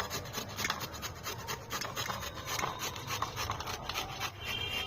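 A peeled radish rubbed on a hand grater, a steady close rasping scrape repeating in quick strokes without pause.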